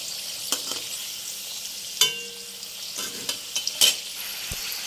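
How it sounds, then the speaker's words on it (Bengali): Potato slices frying in oil, cut into round pieces, in a home kitchen while khichuri and fried eggplant are being made. A steady sizzle runs throughout, with a few sharp clinks and stirring knocks scattered over it. "এখানে হচ্ছে আলু ভাজা চাক চাক করে দেখো"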